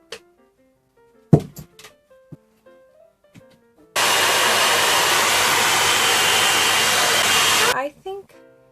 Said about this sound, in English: That's one of the best hairdryer ever.